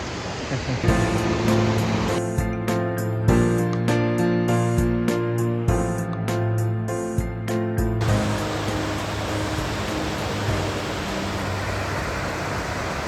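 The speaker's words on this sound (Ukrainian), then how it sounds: "Але ну, такий великий водоспад." A large waterfall of icy water roars in a steady, dense rush from close by, with a brief run of sharp rhythmic tones over the noise before the water sound carries on alone.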